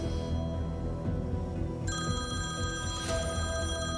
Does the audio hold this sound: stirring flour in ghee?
no